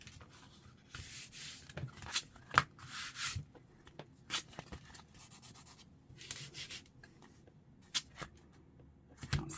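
Wallpaper being folded and creased by hand for a journal cover, giving dry papery rubs and scrapes with a few sharp crinkles, close and fairly quiet, without talk.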